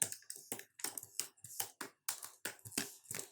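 Keys clack in quick irregular bursts on a computer keyboard during PHP coding, crisp close taps separated by short pauses, no talk.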